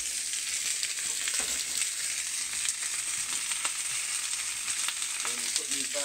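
Peppers sizzle steadily in a frying pan, a continuous bright crackling hiss that stays even and fairly loud throughout, with faint clinks of cooking in the background.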